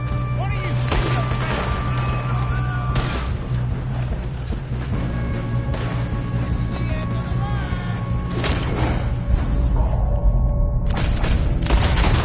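Gunfire in a shooting video game: repeated loud bursts and booming shots spread across the scene, with characters talking over the combat.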